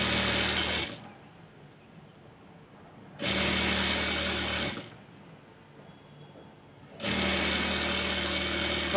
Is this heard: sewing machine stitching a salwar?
yes